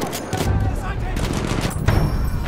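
Dense, sustained machine gun fire in Battlefield 1 at Fort de Vaux, a continuous rattling burst that stays loud and close, with a slight surge near the end.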